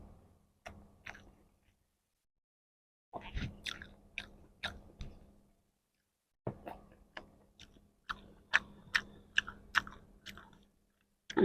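Someone eating spicy fried rice with paneer masala and boiled egg, close crunchy chewing and biting in rhythmic bursts separated by brief pauses, quiet and alone.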